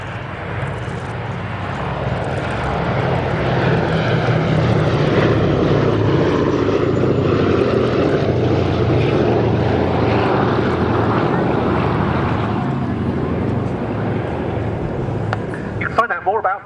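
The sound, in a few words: Boeing B-17G bomber aircraft propeller engines flying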